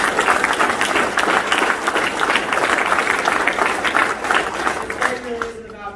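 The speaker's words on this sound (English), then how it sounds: "Give them a round of applause." A crowd at a military change-of-command ceremony for the 161 ESC gives a company a round of applause, loud continuous clapping that fills the room and begins to fade near the end.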